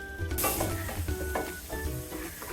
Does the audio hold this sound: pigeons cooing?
no